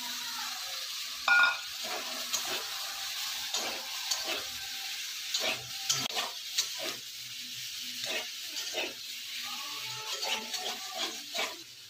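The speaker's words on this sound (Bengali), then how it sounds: "এবার দিয়ে দেবো কাবলি ছোলা, সিদ্ধ করে রেখেছি কাবলি ছোলা।" Boiled kabuli chickpeas going into a frying pan with green chillies, bringing a soft ongoing sizzle with scattered clinks and scrapes of stirring in the pan.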